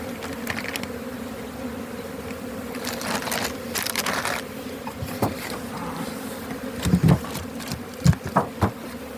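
Honeybees in spring at an apiary fly around their hives, a steady close buzzing drone with passing louder individual bees and a few brief knocks near the end, with no speech.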